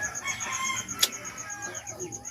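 Chickens cluck in quick, irregular bursts close by in a farmyard while a rooster crows, with a sharp short cry cutting through the middle of the clucking.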